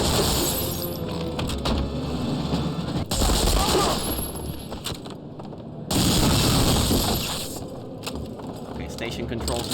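An MP40 submachine gun fires in Medal of Honor Frontline, loud rapid bursts in two long stretches separated by brief gaps, with breaking glass and other game noise around them.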